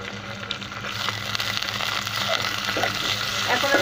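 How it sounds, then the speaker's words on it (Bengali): Prawns frying with onion in a hot pan make a steady, close hiss and crackle of sizzling oil that builds slightly louder over a few seconds, with occasional stirring. "এখন আমি পেঁয়াজের সাথে চিংড়ি মাছটা হালকা করে ভেজে নেব"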